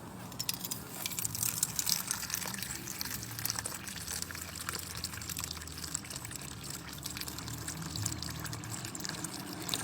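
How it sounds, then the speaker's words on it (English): Water poured straight down at the centre of a hole in free fall, a steady, close splashing gush that runs continuously for the whole stretch. "That's why you are pouring water very perpendicular to this hole"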